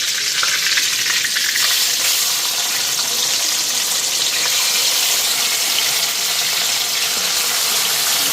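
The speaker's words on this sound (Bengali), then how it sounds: "এখন তেজপাতাটা দিয়া মাংসগুলি ফ্রাই করে নিই।" Meat fries with a bay leaf in a pan, giving a loud, continuous sizzle that stays steady and close throughout with no voices.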